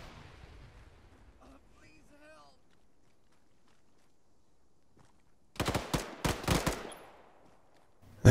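Machine gun fire in ArmA 3 opens with a rapid burst of loud shots from nearby, followed by a few more bursts and a sharp final bang that fits a frag grenade. Faint voices and quiet game ambience precede the gunfire.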